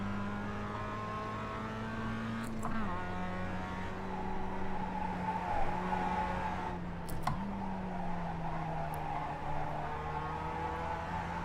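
A Mazda Global Cup race car in iRacing at Charlotte holds a steady engine drone with shifting harmonics as it slides through corners, with brief tire scrub and gear changes, loud and continuous with no talking.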